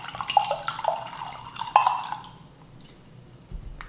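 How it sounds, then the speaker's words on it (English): A 2016 Old York Cellars Syrah is poured into a glass nearby, a bright gurgling splash that tapers to a trickle and a few drips, then quiet. "I'm just going to pour this out for you guys."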